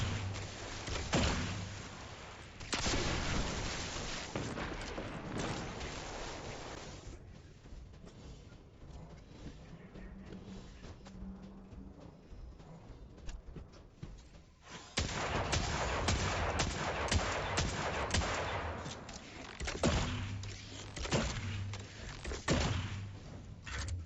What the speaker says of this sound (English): I'm happy to shoot some ammo here, just to get this through a bit quicker